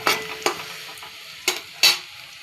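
Chicken frying with onion and garlic in a pan sizzles softly while a spoon scrapes and clacks against the metal in four sharp strokes, the hiss continuing between them.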